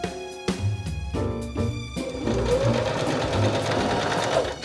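A sewing machine stitching a pocket lining to front garment fabric, running in steady loud bursts with short pauses, then a longer continuous run.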